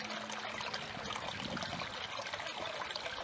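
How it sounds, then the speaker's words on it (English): Outdoor stream of water running, a steady broadband rushing and trickling that stays even throughout, moderately loud, with no voices. "I came to the stream of water."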